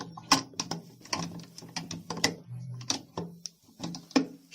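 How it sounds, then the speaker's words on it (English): A parrot eye wrench works the float fitting of a concealed cistern, with rapid close metallic ratcheting clicks and clacks in an irregular rhythm. "to remove the float using a parrot eye wrench, you have to disassemble this folding over here"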